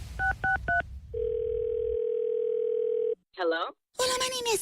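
Telephone tones on a radio prank call: a few short beeps, then a steady dial tone for about two seconds, followed by brief warbling tones and the start of a voice.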